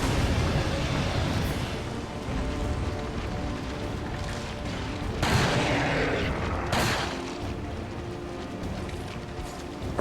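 Grenade blasts and heavy combat noise in Resident Evil 4 on PS4, with two sharp bursts standing out midway through a dense, continuous barrage of loud mechanical clatter and rumbling effects.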